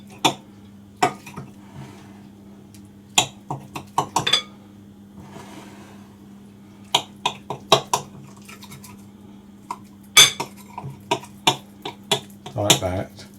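A knife cuts sausage roll pastry into four pieces on a board, giving sharp, irregular knocks and clinks that are close and moderately loud, with a faint steady hum underneath.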